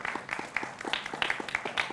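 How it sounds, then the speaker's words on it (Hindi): Studio audience clapping to welcome panelists on a Hindi TV debate show, a short burst of fairly faint, sparse applause with distinct individual claps. "जोरदार तालियों से अभिनंदन है"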